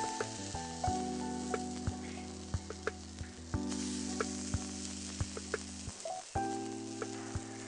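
Vada batter frying on a hot tawa for South Indian vadai, a steady close sizzle broken by a few sharp pops and crackles, with no voices.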